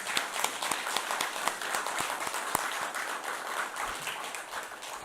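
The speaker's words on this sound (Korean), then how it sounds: "박수로 맞아 주십시오." A lecture audience at a humanities academy in Gwangju applauds to welcome a professor to the stage: dense, steady clapping from a sizeable crowd, sustained evenly for several seconds with a few sharper individual claps standing out.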